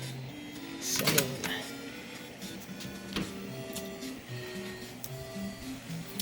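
Rock-Ola 448 jukebox mechanism whirring and clicking as it selects and loads a record, a steady mechanical motor hum with ticks and a louder clunk near the start, heard alone.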